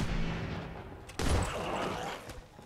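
Gunfire in Fallout 4: a sudden loud blast followed by a rumbling, sustained boom and scattered crackling, over a dense background of combat noise.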